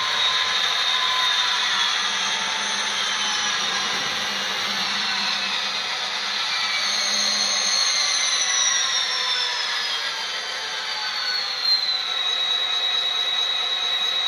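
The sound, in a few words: Athearn SD40 model locomotive engine sound dropping from notch 8 to idle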